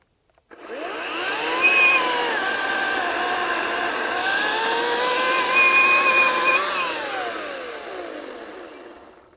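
A Ryobi RY40508 40V 18-inch cordless chainsaw cutting through a roughly 8-inch log, a steady high electric whine that rises as it spins up, dips and strains through the wood, then winds down, close and loud with no talking.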